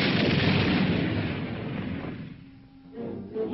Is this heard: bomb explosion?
yes